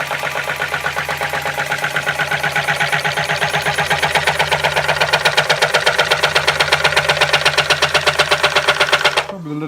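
Wood lathe turning an ash wall platter with a thin gouge, a fast, steady rhythmic chatter and hum throughout that stops abruptly at the end.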